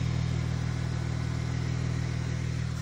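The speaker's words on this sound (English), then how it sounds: "As you can hear, stock rumble here." A 2000 Audi S4 with its stock exhaust idles nearby with a steady, deep, even rumble throughout, heard alone.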